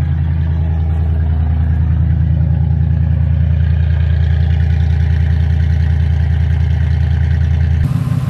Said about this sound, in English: so we got the truck running